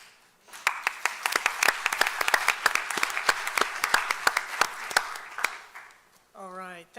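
An audience applauds at a community forum, a burst of many hands clapping that swells within a second and holds steady, then fades before a voice begins speaking at the end.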